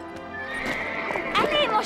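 A horse whinnies in a rising, wavering neigh while hooves clip-clop close by, mixed with speech in a short dramatic scene.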